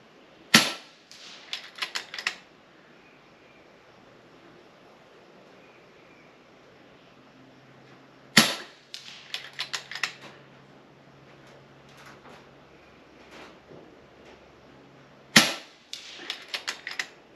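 FX Impact M3 air rifle firing slugs at a target: three sharp, close cracks spaced several seconds apart, each followed by a quick burst of clicks and rattles, with quiet between shots and no talk.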